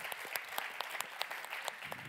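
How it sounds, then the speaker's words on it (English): Warm audience applause at a World Food Day 2022 conference as a speaker is invited on stage, a short burst of fairly quiet, even clapping from a hall audience. "Give her a warm round of applause"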